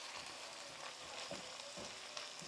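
Garlic, ginger and ground beef fry in a pan with a steady, close sizzle, broken by a few soft stirring knocks and scrapes.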